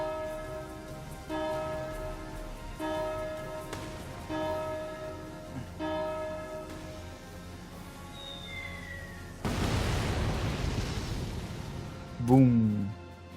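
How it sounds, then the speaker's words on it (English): A bell rings in the Valkyria Chronicles 4 video game, struck about five times at an even pace. A loud, broad blast follows, then a short rising tonal sound. "Ringing the bell."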